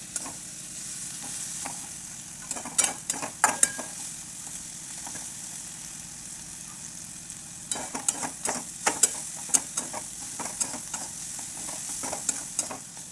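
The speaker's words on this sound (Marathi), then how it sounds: "छान परतून घ्यायची" Green chili thecha chutney sautés in a pan with a continuous hissing sizzle, broken by bursts of scraping and stirring clatter from a spatula, close up, with no speech.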